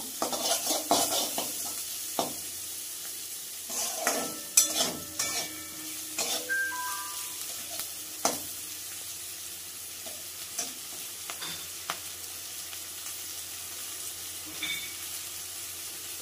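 Water lily stems and shrimp being stirred and fried in a pan, with intermittent scraping and clattering of a utensil against the pan over a steady low sizzle, close and moderately loud, no talking.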